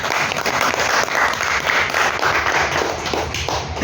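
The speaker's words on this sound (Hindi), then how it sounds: "तो एक बार जोरदार तालियां आरती मैम के लिए।" Enthusiastic audience applause at a CSC presentation event, a thick, continuous burst of many people clapping, loud and close, with faint crowd murmur mixed in.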